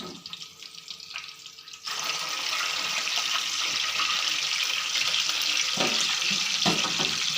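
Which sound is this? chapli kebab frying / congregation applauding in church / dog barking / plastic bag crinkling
chapli kebab frying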